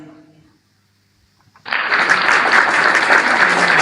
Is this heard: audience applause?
yes